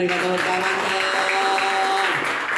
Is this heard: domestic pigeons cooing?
no